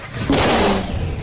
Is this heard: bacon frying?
no